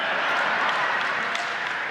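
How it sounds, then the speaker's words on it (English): An audience applauding a speaker at a gathering, a dense, steady wash of clapping from many hands throughout. "I can see from your applause, sisters and brothers"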